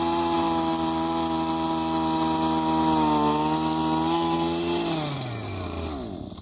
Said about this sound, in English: So we're going to drill into it.